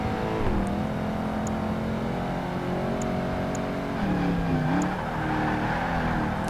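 A racing car's engine is held at full throttle in Project Gotham Racing 2 on Xbox, a loud, continuous high-revving drone that dips and climbs with gear changes, with no talk over it.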